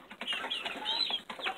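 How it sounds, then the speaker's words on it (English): Bantam chickens and young Ameraucana pullets clucking indoors, several birds making soft, overlapping clucks and calls in a steady stream, fairly close. "4 light bantams inside the house"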